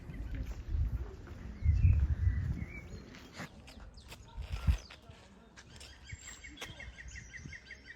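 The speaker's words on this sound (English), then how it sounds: "Like you can hear the birds singing." Birds singing in the countryside around Saint-Rémy-lès-Chevreuse, faint, scattered chirps over a quiet outdoor background with soft rustling, thuds and a little distant talk.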